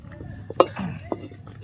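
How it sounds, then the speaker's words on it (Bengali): An iron karai (wok) is set down on a wood-fired stove outdoors in a forest, giving one sharp metallic clank followed by a few softer knocks over low background noise. "এখন কড়াই দিয়ে দেবো, আগুন জ্বলছে, সুন্দর আগুন।"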